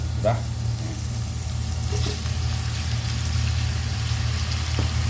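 Chicken feet dropped into a pan of softened sautéed onions for adobo, giving a steady frying sizzle over a low continuous hum, with a few brief stirring clinks.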